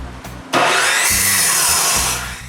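A power saw cuts through wooden studs for the frame of a new shop wall: a loud, steady cutting whine that starts after a short idle and runs for about two seconds before easing off, close by.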